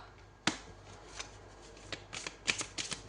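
Tarot cards being shuffled and drawn by hand, a sharp riffle followed by several quick soft card slaps and flicks, close and fairly quiet with no talking.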